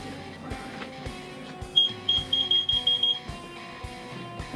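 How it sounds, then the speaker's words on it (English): A Bluetooth device near an electric unicycle gives a string of short, thin, high beeps in a quick rhythm, fairly close and moderate in volume over low background rumble. "And that's the sound of my Bluetooth that's not worth a shit."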